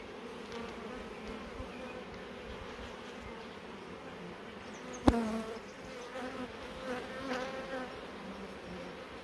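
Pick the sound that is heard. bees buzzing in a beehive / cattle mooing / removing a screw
bees buzzing in a beehive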